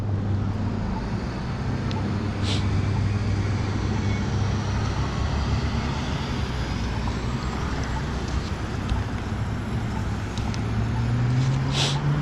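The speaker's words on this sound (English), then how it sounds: "I'm focusing on what the traffic's doing" Street traffic rumbles steadily, a low continuous drone of passing vehicles with wind noise, one engine swelling and rising in pitch as it passes near the end.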